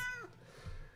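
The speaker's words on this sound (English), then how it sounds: "No, that was the cat." A house cat meows once at the start, a short rising call close by, then quieter low room noise follows without talk.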